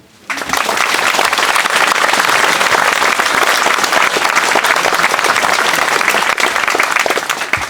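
Dense, sustained applause from an audience at a municipal inauguration ceremony, loud and steady from start to finish with no voices above it.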